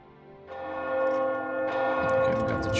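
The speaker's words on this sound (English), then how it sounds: "we got the church bells ringing and everything" Church bells in the town of Bruma in the video game Oblivion Remastered ring out in overlapping, sustained tolls with long resonant decay, swelling louder partway through, with faint game ambience and no talk.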